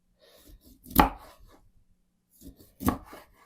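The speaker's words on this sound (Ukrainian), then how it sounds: "Ось на такі шматочки нарізаю всю рибу" A knife chops twice through hake on a board, two distinct thuds a couple of seconds apart, close by, with faint handling sounds between.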